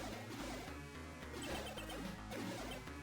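Glass smashing in the Genesis video game Undead Line: repeated crashing hits over a dense, steady backdrop of game music, loud and continuous from start to end.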